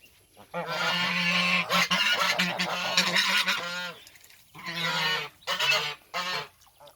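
Geese splash and play in water inside a cement-mixing tub, honking loudly and repeatedly in close, raucous bursts with short pauses between calls.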